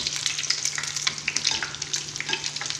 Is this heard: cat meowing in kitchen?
no